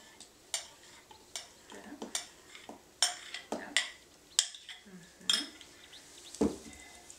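Soap mixture stirred in a container, a spoon clinking and scraping against the sides in an irregular rhythm of sharp close knocks, with a brief quiet voice in between.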